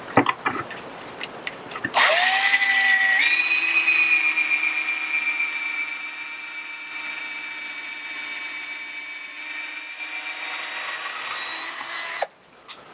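A power drill drives a screw to fasten an edge piece to a wooden farmhouse side table top, a loud, close, steady whine that shifts pitch, runs about ten seconds, then stops abruptly.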